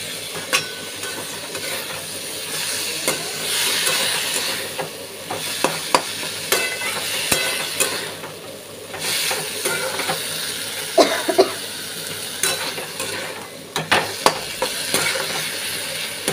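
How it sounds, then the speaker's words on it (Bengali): Potatoes fry in hot oil for a Bengali banana flower curry (mochar ghonto), giving a steady sizzle with scattered clinks and scrapes of stirring throughout, close up and without speech. "আলুগুলো ভালো ভাজা হয়ে যাচ্ছে"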